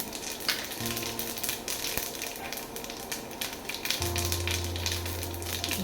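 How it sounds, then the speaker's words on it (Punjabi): Steady sizzling of cumin seeds in hot oil, crackling and spitting continuously at close range with no voices. "ਤੜਕਾ ਆਪਣਾ ਗਰਮ ਹੋ ਚੁੱਕਿਆ ਵਾ ਤੇ ਹੁਣ ਇਹਦੇ ਵਿੱਚ ਜੀਰਾ ਪਾਵਾਂਗੇ"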